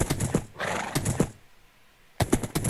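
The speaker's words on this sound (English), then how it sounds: "This horse that I'm riding right now can jump 4 high." Minecraft horse being ridden in survival mode: quick clip-clop hoof steps, a brief whinnying neigh, then more rapid hoofbeats after a short quiet gap, all close and fairly loud with no speech.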